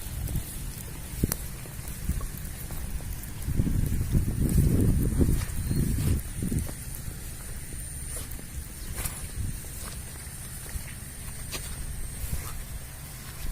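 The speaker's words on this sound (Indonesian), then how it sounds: "Berhubung ini lagi disiram ya, lagi disiram kayak hujan, jadi saya nggak bisa mendekat ini guys." Water sprayed over oil palm seedlings in a nursery makes a steady rain-like hiss with scattered patters, swelling louder for a few seconds near the start before settling back; no speech.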